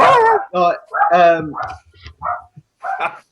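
A dog barks several times in quick, uneven bursts, close and loud, with a whimpering yip near the end.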